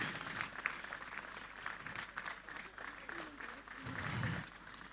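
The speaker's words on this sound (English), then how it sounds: "Please keep clapping until she gets here." A conference audience claps steadily through a standing ovation, the applause fairly faint and diffuse with some swelling near the end, under a murmur of voices.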